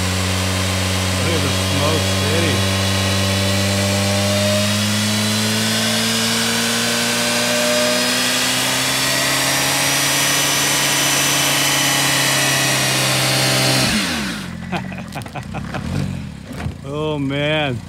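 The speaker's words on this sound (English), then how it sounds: "I love burnouts." A Chevy car engine revs high and holds a sustained roar during a burnout, loud and close, then drops off abruptly as the revs fall and a voice talks over it.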